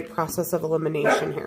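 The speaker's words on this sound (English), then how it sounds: "Sorry about the dog." A dog barks a few quick, close yips while someone talks over it indoors.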